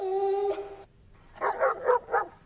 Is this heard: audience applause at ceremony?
no